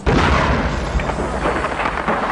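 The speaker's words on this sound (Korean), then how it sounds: "하지만 독일인이 심어놓은 지뢰폭발로 숨지게 된 동료." A landmine explodes in a film, a loud, deep blast that rumbles on for a couple of seconds with no voices.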